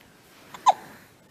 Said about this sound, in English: It's too much to do while you got the hiccups.